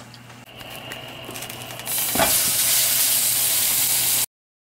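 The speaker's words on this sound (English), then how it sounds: "take a frying pan, put your meat in it, put it on the stove." Ground meat browning in a frying pan on a stove, a soft hiss that swells into a loud, steady frying roar before cutting off abruptly.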